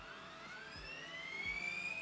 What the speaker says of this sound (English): the acceleration truck is really buzzing again